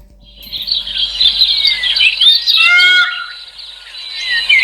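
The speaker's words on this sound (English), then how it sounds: "So that's what that bird sounds like." A bird call plays loud and close from a phone app, a run of bright chirps and trilling whistles with no talking.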